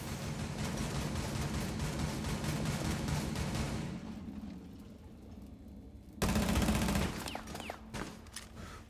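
Sustained gunfire in Rainbow Six Siege, a steady loud rattle of shots for about four seconds, then a quieter lull before another sharp burst of firing.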